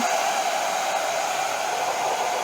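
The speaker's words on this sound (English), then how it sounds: "hope you can hear me over the hair dryer" A hair dryer on medium heat blows steadily and loudly throughout, softening an RC car body, a constant whooshing roar with a high whine and no pauses.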